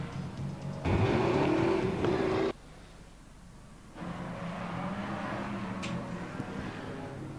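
BriSCA Formula One stock cars racing at Skegness, engines roaring close in a loud burst, then dropping away to a more distant drone before building again as cars circulate.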